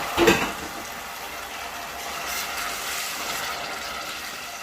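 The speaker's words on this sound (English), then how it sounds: "we've been cooking our tomato with our onion" Tomato puree cooks with softened, browned onion in a pan, a brief clatter at the start giving way to a steady, gentle sizzle and bubbling that stays even to the end, with no voices.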